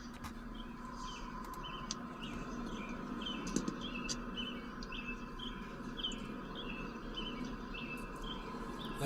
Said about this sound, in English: Like hearing the birds in the background.